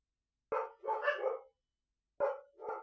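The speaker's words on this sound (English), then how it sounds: "Dogs." Dogs bark in a video game, two pairs of sharp, fairly loud barks separated by a short silence, heard alone without talk.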